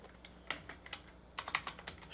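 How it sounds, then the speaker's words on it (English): Computer keyboard typing during a domain-rejoin session, with irregular bursts of close, crisp key clicks that cluster into quick runs with short pauses between them. "So let's go ahead and start typing this."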